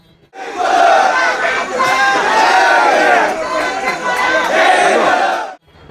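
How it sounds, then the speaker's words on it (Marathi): A large crowd in a clash between two rival groups in Kolhapur shouts slogans loudly and continuously, many voices chanting and yelling together in dense, overlapping waves close by. "दोन्ही बाजूनी जोरदार घोषणाबाजी सुद्धा होत असल्यानं"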